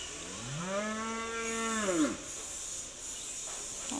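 A bull bought for sacrifice gives one long, drawn-out moo close by, rising and then cut off, over a steady background hiss.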